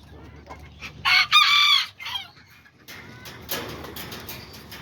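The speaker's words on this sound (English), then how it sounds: "It's a really nice little white aztequita rooster." A small white Azteca rooster crows once, loud and close, in a single bright call lasting about a second, followed by quieter farmyard rustling and a brief clucking burst.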